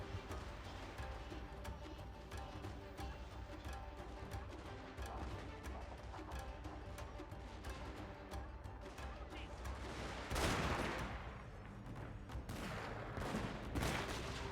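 Rifle volleys from mercenary troops in Shogun II Fall of the Samurai, a continuous crackle of massed musketry and battle noise, swelling into a louder burst of fire near the end, with faint talk underneath.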